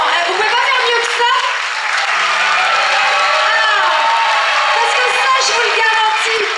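Audience at the Miss Côte d'Or beauty pageant applauding and cheering on a Saturday night, a dense, steady wash of clapping with scattered whoops and shouts that holds loud throughout, with voices mixed into the noise.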